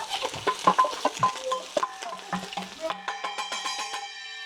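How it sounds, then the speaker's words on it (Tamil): Onions fry in a pan, giving uneven patters and stirring clatter up close, which ease into a series of ringing, squeaky scrapes toward the end. No one speaks. "ஸோ வெங்காயத்தை முதல் கனசாமம் போடுவோம்"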